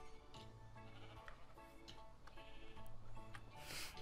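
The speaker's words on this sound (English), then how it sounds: "Sheep!" Sheep bleat repeatedly in Minecraft, wavering cries over a steady background of game music and ambience.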